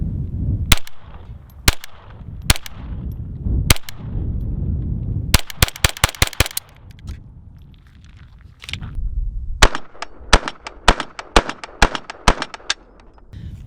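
An Intratec Tec-22 pistol fires outdoors in a series of sharp, loud shots, first spaced singly, then a quick burst of rapid rounds, a pause, and another string of fast shots.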